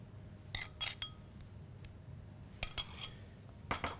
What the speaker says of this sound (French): Le premier travail consiste à mélanger notre beurre ramolli